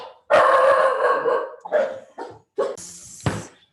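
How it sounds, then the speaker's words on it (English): Dogs bark and yelp loudly in a rapid burst, several sharp barks and a howl-like yip close by with no talking. "just had some crazy dogs going on in the background there"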